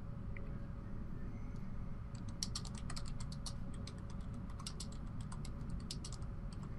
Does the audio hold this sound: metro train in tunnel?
no